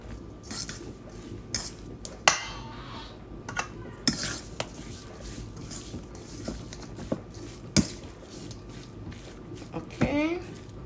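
A fork stirring sweet and sour chicken in a bowl, soft scraping and occasional sharp clinks against the dish, fairly quiet and close, with faint talking in the background.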